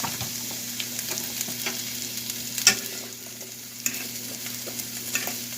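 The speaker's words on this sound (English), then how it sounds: "I'm getting ready to saute our onions and peppers." Steady sizzling and frying of onions and peppers in butter in a pan, a constant crackling hiss with occasional stirring clinks, no voices.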